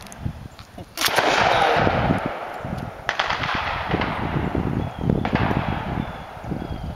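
A shotgun fires at a clay target at an outdoor clay shooting range, with loud sharp blasts that echo and roll away in the open air.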